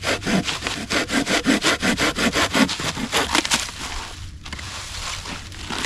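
A 7.5-inch hand saw blade with about 7 teeth per inch cuts through wood for kindling in an outdoor shelter setting, with a quick rhythmic run of about fifteen rasping back-and-forth strokes, then a quieter pause.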